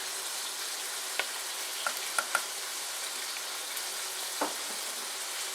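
A spoon stirs jarred carrots into a beef roast in a crock pot, giving a handful of soft clinks and scrapes against the pot over a steady low hiss, close and quiet with no talking.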